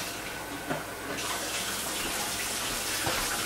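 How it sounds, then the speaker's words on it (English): Water pours steadily into a pan of taco meat and seasoning, a continuous close hiss of liquid that grows a little brighter partway through, with no talking. "Also like to add just a little bit of water to help it get out and around, to help the taco seasoning get evenly"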